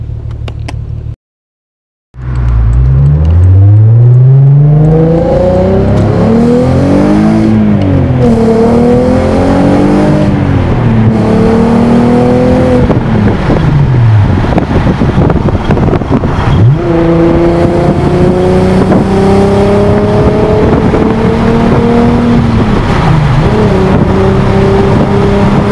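A Volkswagen Golf R32 Mk4 with its exhaust resonator deleted roars through its exhaust as it accelerates repeatedly, revs rising and dropping through the gears, loud and close throughout.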